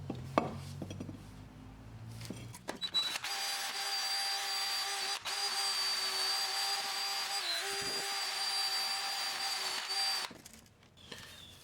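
Power wire brush or drill scrubbing rust off the pad hardware seats of a brake caliper on a 2017-2019 Chevrolet Cruze, a steady loud grinding whir running for about seven seconds after some brief handling clatter, then stopping.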